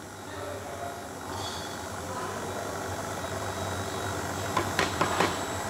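An empty Mahlkonig X54 home coffee grinder runs with a steady mid-pitched motor hum that stays even throughout, and a few faint clicks come near the end.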